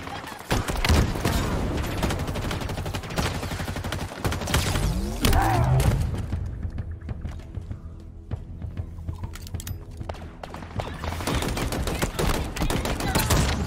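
Bursts of rapid gunfire from Halo Infinite gameplay crackle throughout, dense and loud at first, easing into scattered shots mid-way before picking up again.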